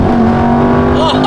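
A Lamborghini Gallardo engine revs loud and close with a steady, rising drone, while voices chatter over it.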